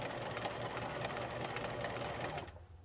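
A sewing machine runs a steady basting stitch, holding ric-rac trim down onto quilt binding with a fast, even whirring that continues without a break and then stops abruptly near the end.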